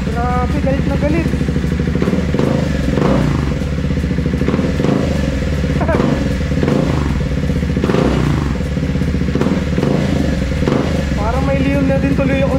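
Loud and close, a Triumph Speed 400 motorcycle with a DNA high-performance air filter runs steadily with several throttle blips, giving a rough clattering rumble and a little crackle, while people talk faintly in the background.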